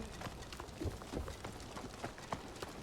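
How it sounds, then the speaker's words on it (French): Horse hooves clip-clop in Assassin's Creed Shadows, a steady run of soft rhythmic hoofbeats at moderate distance with no voices over them. "Ensuite, je vais appeler le cheval."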